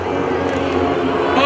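Team RV aircraft at the 2011 Greenwood Lake Airshow pass overhead as a loud, continuous propeller drone, heard close and steady.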